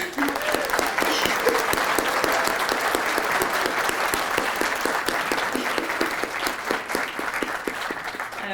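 Steady, dense applause from an audience at an exhibition opening program, close and loud, running evenly for several seconds before tapering slightly near the end.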